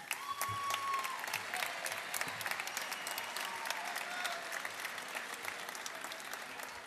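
A crowd at an opening ceremony in Argentina claps in a sustained, dense round of applause, heard from a distance with a faint whistle-like tone rising briefly through it.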